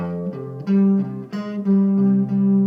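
A guitar plays a short riff of sustained, ringing chords, each strummed note clear and close, with brief pauses between the phrases.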